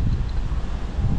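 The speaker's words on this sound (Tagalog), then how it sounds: "Medyo may kuha na nga yung hangin dito" Typhoon wind sweeping through an outdoor spot in Taiwan, a steady, loud broadband roar with low buffeting rumble against the microphone, continuous throughout with no talking.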